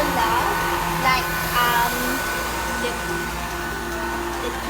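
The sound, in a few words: KHIND cordless vacuum cleaner running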